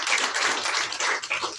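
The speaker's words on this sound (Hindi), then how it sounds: "एक बार जोरदार तालियां हो जाए।" An audience claps loudly and steadily in a presentation setting for a company owner, a dense burst of applause lasting under two seconds.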